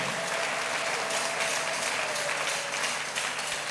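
A church congregation applauds with steady, dense clapping that carries on evenly throughout, filling the space at moderate volume with no clear voices above it.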